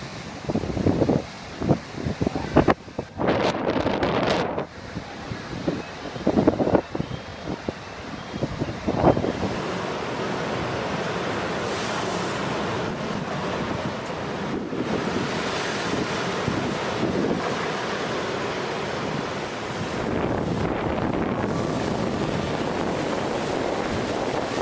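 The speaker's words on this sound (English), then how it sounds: "A monster wave is recorded in Spain in 2014." Huge ocean waves crash against the coast of Spain, with heavy roaring surf and wind buffeting the microphone, several loud breaking bursts early on, then a sustained, dense wash of churning water and wind.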